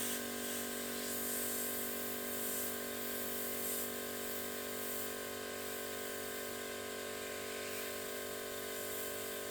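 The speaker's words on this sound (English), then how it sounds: "we can spray low pressure." An airbrush sprays homemade acrylic paint at low pressure, a steady, even hiss held throughout without break, close but fairly quiet, with no talking.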